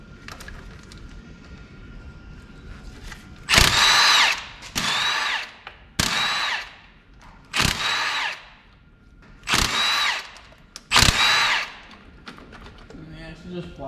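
A Milwaukee power tool, used while pulling the engine for a Mk3 Jetta 1.8T swap, whirs in six short bursts of two to three seconds each, separated by pauses.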